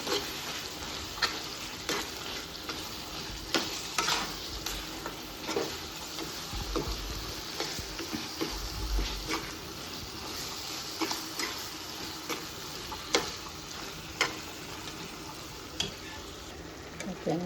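Boiled gongura paste being stirred into Andhra chicken curry in a pan: a low simmering sizzle broken by quiet, irregular spatula scrapes and taps across the whole stretch.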